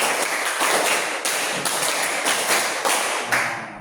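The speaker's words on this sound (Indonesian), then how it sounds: "Tepuk 1, tepuk 4, tepuk 5, 2 kali tepuk 5." Hands clap in a quick series of sharp, loud claps, roughly evenly spaced with occasional short pauses, close up and without talking.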